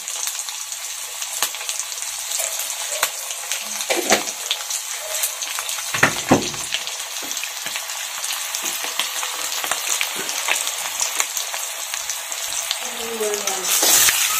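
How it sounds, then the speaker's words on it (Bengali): Eggs frying in a pan give off a steady crackling sizzle for the whole stretch, broken by a few louder spatters and scrapes. "ডিমটাও দিয়ে দেখ, তাহলে একসাথে ভাজা হয়ে যাবে।"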